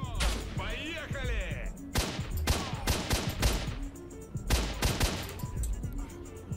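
Sniper rifle shots ring out in S.T.A.L.K.E.R. Shadow of Chernobyl, a series of sharp, loud cracks with ringing tails spread over several seconds, mixed with other game sounds.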